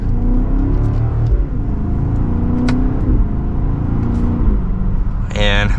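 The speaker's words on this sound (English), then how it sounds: "Let's do one last acceleration." A 2024 BMW X5 M60i accelerates hard from the driver's seat, its engine rumble and road roar loud and continuous as it climbs, with a brief chime near the end.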